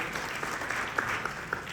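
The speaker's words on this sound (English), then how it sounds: "please give them a round of applause" A film festival audience applauds its volunteers, many hands clapping in a dense, steady patter with a few sharper near claps standing out, and no voices over it.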